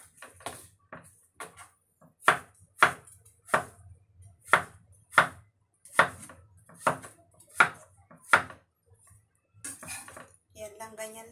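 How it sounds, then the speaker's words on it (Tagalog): A knife slices through cucumber on a cutting board, about a dozen crisp evenly spaced chops close up, with brief quiet gaps and a faint voice at the end. "So hiwain na natin ang cucumber."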